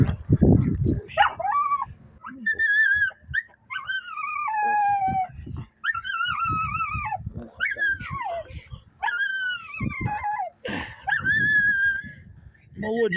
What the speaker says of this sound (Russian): Молоденькая собачка, годик где-то.